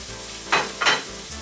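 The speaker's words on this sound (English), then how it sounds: "Now let's go ahead and get these noodles in here." Noodles going into a hot beef stir-fry pan with bell pepper and bok choy, giving two short bursts of loud, close sizzling over a steady low hiss.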